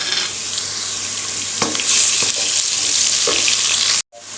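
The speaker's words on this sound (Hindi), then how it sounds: "अभी साथ ही हम इसका लहसुन और अदरक का पेस्ट डाल देते हैं। इससे ये होगा कि ये भी साथ फ्राई हो जाएगा।" Loud, bright sizzling of onions and garlic-ginger paste frying in a hot pan with occasional stirring scrapes, close up; the sound cuts out abruptly near the end.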